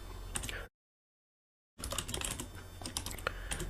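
Rapid keystrokes on a computer keyboard while typing code, a close, busy clatter broken by a sudden second of total silence before the typing resumes.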